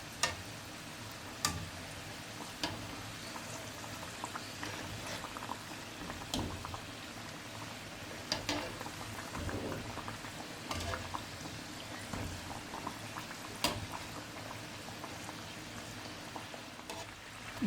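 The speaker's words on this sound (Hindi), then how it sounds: "समोसे अच्छे से फ्राई हो गए हैं।" Samosas deep fry in hot oil on a medium flame, giving a continuous faint bubbling hiss broken by scattered sharp pops and crackles, with no voices.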